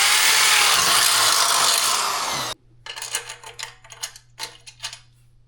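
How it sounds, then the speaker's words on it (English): A loud continuous whine of a power drill boring out a hole on an e-bike moped for a couple of seconds, then cuts off, followed by scattered knocks and scraping clatter. "I own a drill, so I'm just going to bore it back out."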